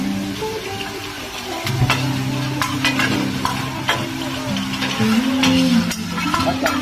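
Pad thai noodles with dried shrimp are stir-fried in a hot pan, giving a steady close sizzle with scraping stirs throughout and faint tonal background sounds underneath.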